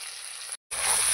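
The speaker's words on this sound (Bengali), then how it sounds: "আলু পেঁয়াজ দিয়ে ভালো করে নাড়াচাড়া করে আমি লাল লাল করে ভেজে নেব" Potatoes and onions fry in a hot pan with spices, giving a steady close sizzle that cuts out for a split second before returning louder.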